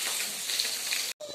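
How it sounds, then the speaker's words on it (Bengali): Fish sizzles and crackles in spattering oil at close range, a dense steady hiss with popping, cut off by a brief silence near the end before resuming. "তেলটা ছিটকাচ্ছে"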